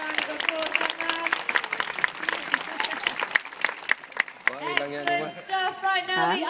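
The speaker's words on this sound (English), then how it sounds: "Give yourself a nice big round of applause on that." An audience claps for a child's seal impression, a dense burst of applause that fades as voices and tonal sounds take over in the final seconds.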